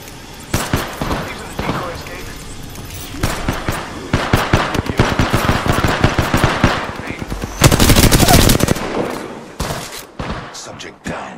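Shooting erupts in the battle-royale video game Apex Legends, fast automatic bursts and single shots crackling loud and close, building to a dense volley before tapering off, with a voice talking in between.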